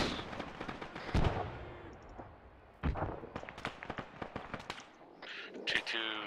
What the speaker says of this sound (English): This is friendly mortars going out